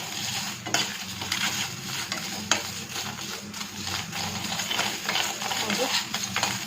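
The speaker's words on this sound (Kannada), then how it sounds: "ಈ ಥರ ಟೊಮೊಟೊ ಹುರ್ಕೊಳ್ಳೋದು" Tomatoes and onion frying in a spoonful of oil for a country-style chicken masala, stirred steadily in a pan with scraping clinks of the spoon against the metal, a continuous close sizzle underneath.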